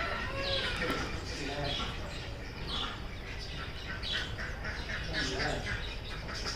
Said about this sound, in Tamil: காலையில் எழுந்திரிச்சதுமே அந்த வாத்து சத்தம், கிளி சத்தம் எல்லாமே வந்து ரொம்ப சூப்பராக இருந்தது